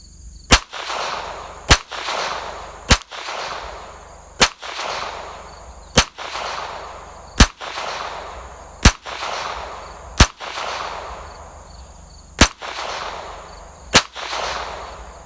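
A Smith & Wesson SW22 Victory .22 pistol firing Federal Gold Medal rounds at a range: eleven sharp, loud, close shots at a steady pace about one to one and a half seconds apart, each followed by a brief echoing tail, with no talk.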